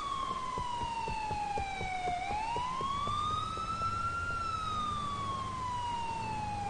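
A police car siren in the video game GTA4 wails continuously, sweeping slowly down and then up in pitch, steady and fairly close over a low engine rumble.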